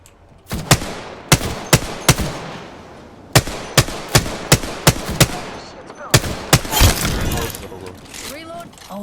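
Rapid bursts of video game gunfire from Apex Legends, sharp loud shots in quick clusters with brief gaps between volleys, ending in a denser flurry of fire and impacts.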